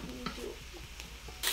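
Vegetables, including sliced serrano pepper, sautéing in a pan for keto chili, a steady faint sizzle broken by a few soft stirring scrapes and a louder hiss near the end; no talk.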